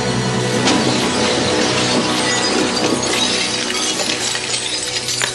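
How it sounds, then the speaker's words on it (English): Fiberglass sculptures of a dictator and a dog topple and smash for a film physical effect, a dense, loud burst of shattering and breaking fragments that clatters on continuously for several seconds. "The live figures are replaced by the fiberglass sculptures, and the big fall is a smashing success."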